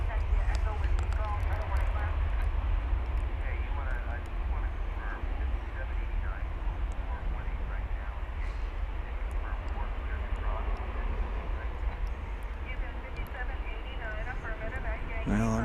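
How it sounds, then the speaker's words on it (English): A Boeing 777-200 operating as American Flight 115 to Honolulu takes off from DFW Airport. Its heavy jet roar is sustained and moderately distant, with a person speaking intermittently over the engine noise. "That was American Flight 115 off to Honolulu, 777-200"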